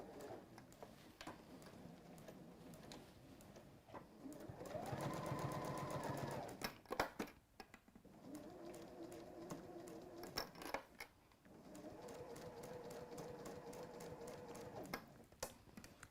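A sewing machine stitches textile in several runs of a few seconds each, a close rapid mechanical whir separated by ticks and clicks in the pauses.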